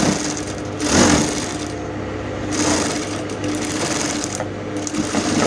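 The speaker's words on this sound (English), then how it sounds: "and then I'm going to stitch it" A sewing machine runs in steady bursts while stitching a seam on three-quarter trousers, a fast, even mechanical chatter that pauses briefly between runs, close and alone.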